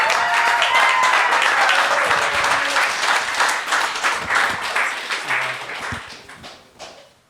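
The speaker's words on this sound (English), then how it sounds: "Give them one more round of applause if you would, please." Live concert crowd applauding a band as it leaves the stage, dense sustained clapping with a few cheers that gradually thins and fades out over several seconds.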